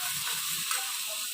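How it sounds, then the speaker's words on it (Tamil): Onions sautéing in a pan for a jackfruit seed fry, a steady soft sizzle and hiss running evenly throughout, close by with no talk. "நல்லா வதக்கணும். வெங்காயம் நல்லா செவந்து வரணும்."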